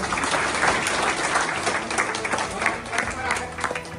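A crowd at a felicitation function for SC/ST organizations claps loudly in honour of the guests, dense and sustained applause with individual claps standing out, with a voice talking over it.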